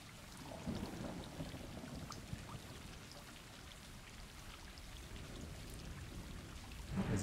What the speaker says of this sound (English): The lovely rainy night.